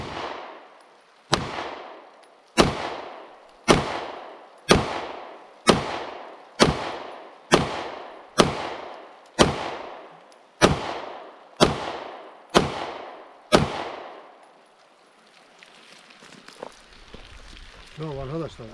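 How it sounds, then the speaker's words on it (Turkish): A Sar9 pistol fires fifteen evenly spaced shots at a water-filled tin can, each a sharp, loud crack with a ringing decay, spaced about a second apart, followed by quieter outdoor rustling and handling sounds. "gerçekten güzel, keyifli bir silah"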